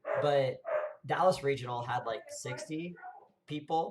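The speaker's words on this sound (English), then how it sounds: "apologies about my dog in the background" A dog barks in the background of a room, short yips and bow-wows mixed under steady, close conversational speech.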